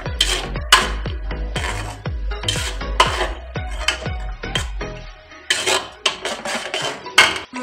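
A spoon scrapes and taps repeatedly against a cooking pan while onion, garlic and ginger masala paste is stirred, producing a close series of sharp metallic clinks in an uneven rhythm.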